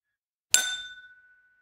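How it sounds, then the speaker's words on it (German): A single bright clink of whisky glasses touching in a summer toast, close and clean, with a high ringing tone that lingers and fades over about a second. "Prost, Luis. Prost, Steffen."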